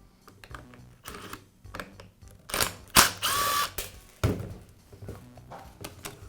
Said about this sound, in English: I'll begin by removing the rear housing from the grinder.